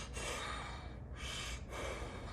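A person breathes audibly in and out through the nose with one side blocked, three long airy breaths close to the microphone with a short pause between them.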